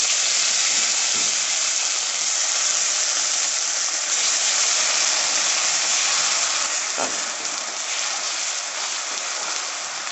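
Onion paste frying in hot oil tempered with whole white cumin, for a Bengali rohu fish curry, gives a steady, close hiss of sizzling that holds evenly throughout with no talk.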